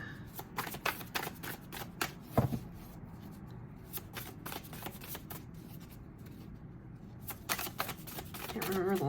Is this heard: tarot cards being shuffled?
yes